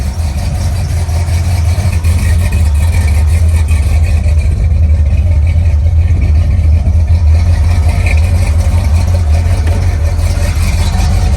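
A car engine runs steadily while warming up, a loud continuous low rumble close by with no revving or breaks, heard alone without talk.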